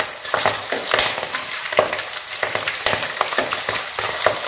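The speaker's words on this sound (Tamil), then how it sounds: "இந்த பச்சை மிளகாய் லைட்டாக கீரி போட்டு வச்சுருக்கேன். இது வந்து வதக்கணும்." Green chillies frying in oil in a pan for a village fish curry, crackling with a loud, steady sizzle while a spoon stirs and scrapes them close up.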